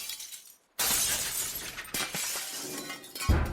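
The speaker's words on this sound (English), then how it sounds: "We'll just break all the glass out," Windows smashed out of a wrecked tugboat in Roblox, heard as a loud burst of shattering glass after a brief silence, followed by further cracks and scattering shards, with another sharp break near the end.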